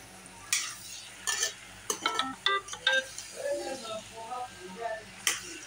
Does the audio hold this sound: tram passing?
no